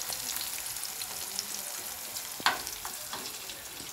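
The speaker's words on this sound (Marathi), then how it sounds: "तेलामध्ये घालून तिखट मीठ हळद घालून असं हे परतून घ्यायचं तेलामध्ये" Potato slices frying in oil with chili powder, salt and turmeric, a close, even crackling sizzle with one sharper clatter of a utensil midway.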